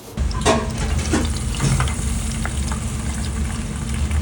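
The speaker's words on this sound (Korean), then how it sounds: "세게 해서 팍 튀겨주고 있어요." Capers fry in hot oil on high heat in a sushi restaurant kitchen, giving a steady, close, crackling sizzle with a few louder pops near the start, without voices.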